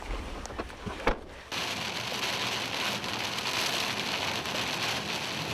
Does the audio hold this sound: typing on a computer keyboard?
no